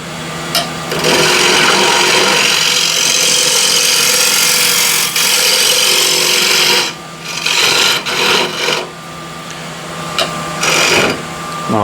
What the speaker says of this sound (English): Again, I can use a refiner here. Or square and scraper.